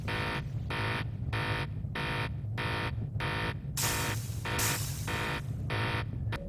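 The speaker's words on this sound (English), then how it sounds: "Because of the alarm and the flashing red lights, it makes it difficult to see" A loud electronic alarm in the Atari Jaguar game Alien vs Predator pulses in rapid, regular beeps over a low rumbling hum, with a brief hissing burst partway through.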